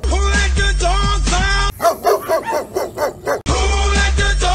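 Several large dogs bark in a short burst of loud, choppy woofs, framed before and after by loud music with a heavy beat.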